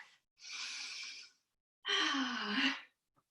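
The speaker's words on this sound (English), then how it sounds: "You might want to take a big deep breath." Two deep breaths during a yoga session, a long audible exhale followed by a louder, breathy sigh with a slight voiced groan, close and clear against silence.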